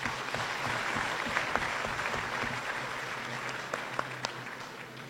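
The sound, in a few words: applause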